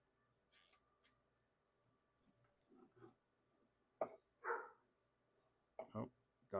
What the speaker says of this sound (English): Oh, dogs are barking inside.